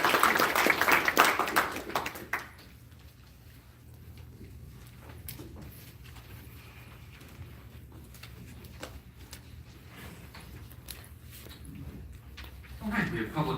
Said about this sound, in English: How about a round of applause for both these groups?